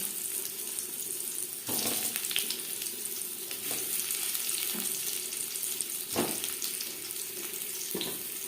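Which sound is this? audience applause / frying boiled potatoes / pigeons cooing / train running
frying boiled potatoes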